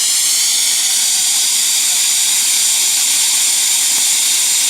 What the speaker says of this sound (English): It is a complete jet of water which is getting thrown out